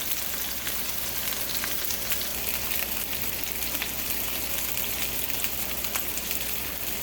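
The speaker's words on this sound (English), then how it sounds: "spoon some hot butter and oil over these bad guys" Beef pinwheels fry in a hot pan while hot butter and oil are spooned over them, giving a dense, even sizzle that holds steady throughout, with faint crackles and small pops rising above it and no voices.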